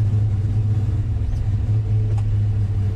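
A turbocharged LS-engined car on its first gentle drive after a cam swap, its engine a steady low rumble throughout with no revving bursts.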